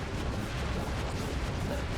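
A Fire spell cast in Kingdom Hearts Final Mix during a fight in Atlantica gives a dense, loud burst with a roaring, rumbling body that sustains evenly for about two seconds, with no talk over it.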